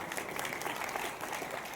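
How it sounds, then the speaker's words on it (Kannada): Loud, dense applause fills the hall at an evening concert of hits, sustained and even throughout with no break. "ಜೋರಾದ ಚಪ್ಪಾಳೆ."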